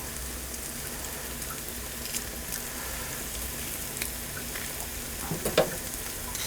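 Pressed garlic cooks in a pan over softened onions for a savory Easter pie, a soft continuous sizzle with a few faint clicks and a small stirring clatter near the end.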